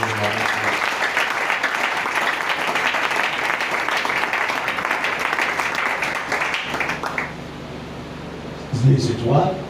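A church congregation applauds, a dense sustained roar of clapping for several seconds that fades toward the end, where a voice begins to speak.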